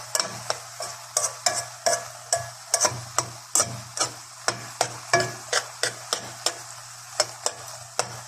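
Ground meat cooking in a pan, stirred with a utensil that scrapes and taps the pan about twice a second over a steady low hum, close and fairly loud, with no voices.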